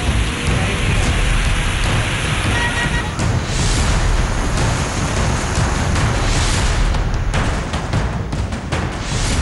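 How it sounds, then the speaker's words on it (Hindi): Heavy rain pours steadily during flooding in Dehradun. The downpour makes a dense, continuous hiss with no pauses. "देहरादून में बारिश और बाढ़ की सबसे ज्यादा मार पड़ी है।"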